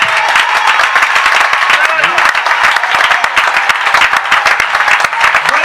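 A church congregation applauds during a sermon, a dense, steady wash of many hands clapping close and loud throughout, with a few cheers mixed in.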